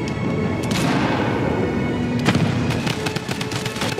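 Tommy gun shots in a video game during a volcano live event: scattered sharp bangs and short bursts, loud and near, over a busy background of game noise.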